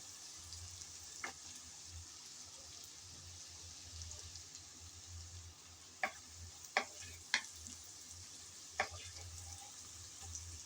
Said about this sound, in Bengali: এখন পেঁয়াজের সাথে নেড়ে চেড়ে ভেজে নেব, যেন আদা রসুনের কাঁচা গন্ধটা চলে যায়